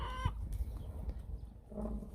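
A chicken on a small farm with goats lets out a short burst of clucks near the start, followed by scattered softer fowl sounds over low background rumble.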